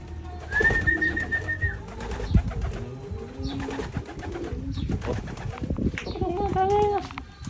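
Pigeons coo and call near a loft while one carries nesting material, their low murmuring notes running under steady talk, with a higher whistle-like tone at the start and end.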